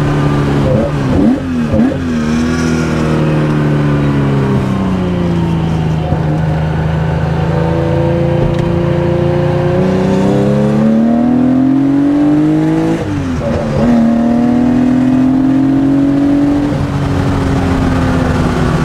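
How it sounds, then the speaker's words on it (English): A 1972 Porsche 911 T with a 2.8L fuel-injected engine revs hard while driving laps, close and loud. Its pitch climbs and falls repeatedly through gear changes across a long run, with no talk over it. "This thing is a race car for the street."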